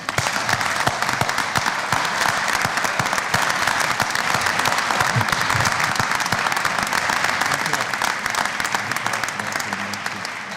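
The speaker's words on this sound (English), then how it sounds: "let me thank you one more time with a big round of applause" Sustained, loud applause from a large audience fills the whole stretch, dense and steady, rewarding the volunteer president of the Youth Atlantic Treaty Association.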